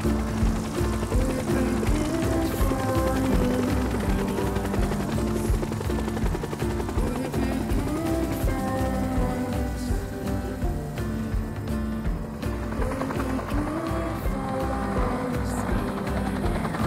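A steady helicopter drone with rapid rotor chopping fills the whole stretch, loud and continuous, with no talking, on a flight to Uummannaq, Greenland.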